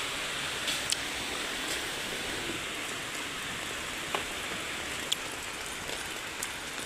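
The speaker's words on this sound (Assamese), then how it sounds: "আজি কিন্তু বৰষুণ আহিছে গাইজ বেয়াকৈ আহিছে" Heavy rain pours down as a dense, even hiss with a few louder drops landing nearby, steady throughout with no voices.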